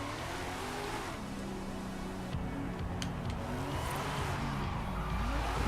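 Buick Grand National engine droning steadily in a racing video game, with sliding pitch sweeps as it accelerates and shifts, plus a brief tire skid, continuous and fairly close throughout.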